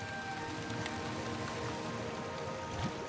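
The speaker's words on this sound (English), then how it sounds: "When rain comes to Sabah" Steady rain falls in the Borneo forest of Sabah, a dense continuous hiss of drops on leaves and surfaces, even and moderately loud with no voices.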